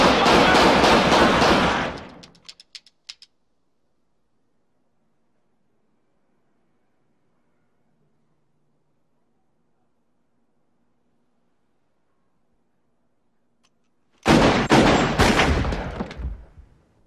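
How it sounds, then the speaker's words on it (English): Gunfire from the Pulp Fiction scene where Brett and his associates are shot: two loud, dense bursts of shots, one at the start and one near the end, separated by a long stretch of near silence. "a critical moment happens right after the shooting of Brett and his associates"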